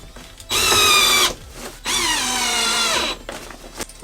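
A power drill drives 20 mm screws with size-6 heads into wooden paneling inside a van, two long whirring bursts close up, the second longer, with brief quiet gaps and small handling noises between.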